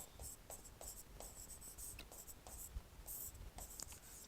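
Pen or chalk writing by hand during a physics lesson on ammeters and voltmeters, a faint run of quick scratchy strokes in short rhythmic bursts, with no talk.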